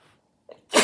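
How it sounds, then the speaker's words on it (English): A single loud, close human sneeze, a short intake of breath followed by a forceful burst, after a moment of near silence. "I feel like I'm gonna sneeze."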